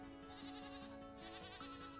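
Goats bleating in the Vintage Story video game, a few wavering, nasal bleats in quick succession, close and clear over a low steady ambient hum, with no talk.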